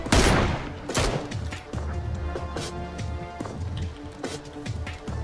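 Gunfire in PUBG, a sharp loud shot up front followed by a rapid string of cracking rounds and impacts, some close and some distant, rattling on steadily with a few sparse louder bursts.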